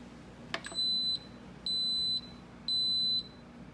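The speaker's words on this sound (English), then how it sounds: "So now you're going to hear those three little beeps." Three evenly spaced electronic beeps from a pressure cooker, each about half a second long, preceded by a couple of faint clicks.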